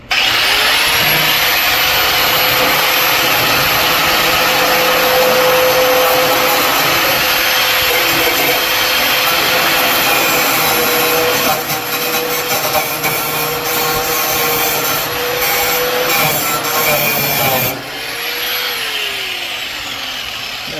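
A loud power tool cuts into the back of a built-in Summerset 32-inch grill cabinet, whining steadily and continuously at close range for about seventeen seconds before the pitch drops as it spins down.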